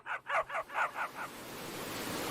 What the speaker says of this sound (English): A strange noise could be heard behind the gale. It sounded like barking.